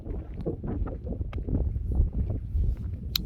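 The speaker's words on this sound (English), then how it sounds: "It's too windy." Strong gusting wind buffeting the microphone in loud, uneven low rumbles throughout, with no voices.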